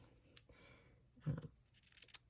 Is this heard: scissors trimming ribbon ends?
yes